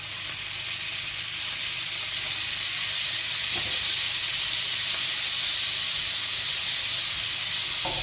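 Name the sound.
wood pigeon breast sizzling with butter in hot pan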